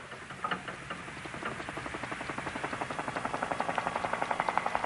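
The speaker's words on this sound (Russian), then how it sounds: "Это вертолет." A helicopter flies overhead during an earthquake scare in a horror film, its rotor beating in a steady rapid pulse that grows louder and faster as it approaches, with no talking.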